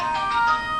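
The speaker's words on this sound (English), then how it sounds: "That's the phone ringing." A telephone rings indoors with a steady electronic warble that is fairly loud and close, heard with no speech over it.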